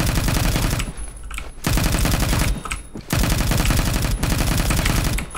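Rapid bursts of automatic fire from a SCAR HAMR machine gun in a video game, loud and dense, with brief pauses between sustained volleys.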